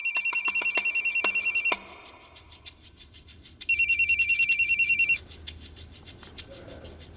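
A telephone rings in two long electronic trills separated by a pause, loud and close, with faint background noise and soft thumps afterward.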